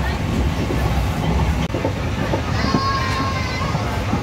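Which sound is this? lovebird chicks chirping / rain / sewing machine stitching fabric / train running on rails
train running on rails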